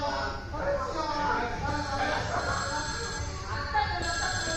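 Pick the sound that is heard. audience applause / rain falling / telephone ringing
telephone ringing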